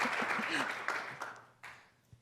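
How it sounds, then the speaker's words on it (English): A live podcast audience at Politifest 2019 gives a short round of applause for the mayor of Encinitas, clapping that fades away with a few sparse late claps, while a person speaks over the start. "Little round of applause for the mayor of Encinitas."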